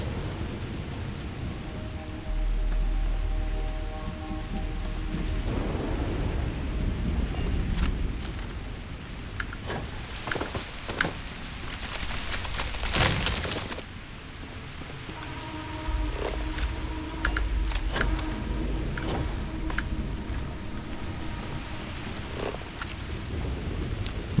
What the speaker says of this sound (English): And it's 3 a.m. and it's raining.